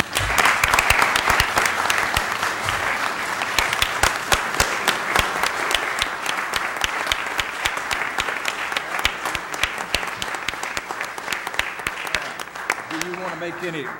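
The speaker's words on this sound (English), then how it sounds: "let's give her a round of applause" Steady applause fills a county commissioners' meeting for Mrs. Lynch, a retiring court clerk, dense clapping from a room of people holding for about fourteen seconds, with a few voices talking underneath near the end.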